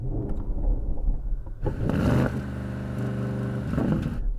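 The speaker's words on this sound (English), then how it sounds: "Rev up your Porsche, Yanni." Porsche Cayenne Turbo S engine revving at a drag race, a loud rumbling exhaust swelling and holding, then easing off, with no talk over it.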